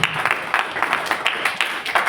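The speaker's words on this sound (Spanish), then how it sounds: "Un aplauso." Scattered applause from a church congregation at a pastors' student gathering in Tinky, Cusco, Peru, with several uneven bursts of clapping close by over about two seconds.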